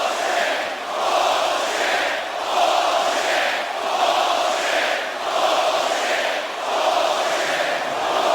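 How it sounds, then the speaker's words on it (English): A large UFC arena crowd, at UFC 244's Diaz vs Masvidal bout, voices loud disapproval: a sustained, roaring wash of boos and jeers that swells and ebbs in waves. "no surprise the crowd doesn't like it"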